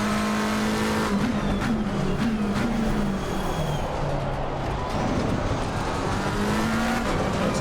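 GT race cars lapping Spa in the game Assetto Corsa Competizione, with a loud, continuous engine note that climbs and drops through gear changes, other cars' engines and tire noise layered underneath.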